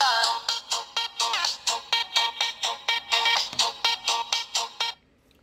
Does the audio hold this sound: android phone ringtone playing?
yes